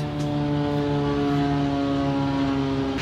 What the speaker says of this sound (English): There's a lot of prop planes in this island, so sorry about the noise.